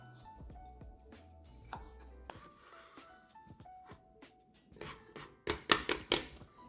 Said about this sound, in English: I am going to cut these tomatoes in half while the rest of the veggies are in the